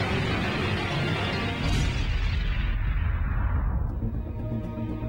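Heavy wartime artillery fire and explosions rumble in a dense, continuous barrage, loud and booming, the roar gradually thinning toward the end.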